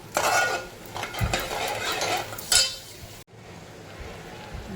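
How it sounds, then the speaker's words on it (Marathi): A spoon stirs milk and sugar in a cooking pot, producing close scraping and light metallic clinks in uneven strokes over a few seconds. "दोन कप दूध घेतले म्हणून आपण एक कप त्याच्यामध्ये साखर घेतली याला आता व्यवस्थित आपण हलवून घेऊ"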